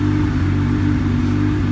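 A Honda Civic engine on a Hondata base setup, idling cold at a high idle around 1400 rpm: a loud, steady, close low rumble with an even throb, and no talking.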